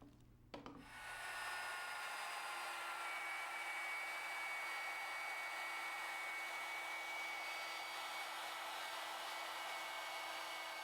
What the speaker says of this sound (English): We have it clamped in place, and now we're ready to cut our dados.